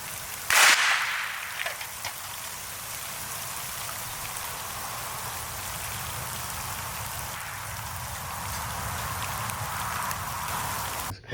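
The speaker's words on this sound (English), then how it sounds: "You see it's raining?" Steady rain patters on outdoor surfaces in a continuous close hiss. A single sharp crack sounds near the start.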